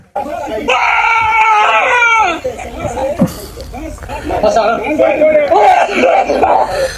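Several people scream in anguish after a drone strike, a sustained cry in the first seconds followed by overlapping wails and agitated crowd voices close by.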